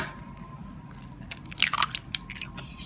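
An egg is cracked and dropped into a bowl of brownie mixture, giving a few soft wet squishes and a quick crunch of shell, close and fairly quiet, with no talking.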